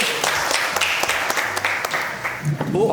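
A studio audience claps on a comedy TV show, dense applause with sharp individual claps running throughout.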